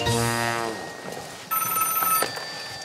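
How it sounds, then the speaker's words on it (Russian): A telephone rings loudly and close by in an indoor drama scene, with a bright bell-like electronic tone sounding in bursts and no voices. "Алло, Сан Саныч"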